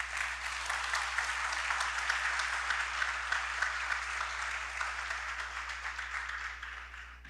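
A church congregation applauds together in a steady, evenly sustained round of clapping at moderate distance, slowly tapering toward the end, with a low electrical hum beneath.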